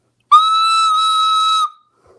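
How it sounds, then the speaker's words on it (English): A recorder is blown hard in a single long, piercing, steady high note lasting over a second, very loud and close, then silence. "No, it's a recorder."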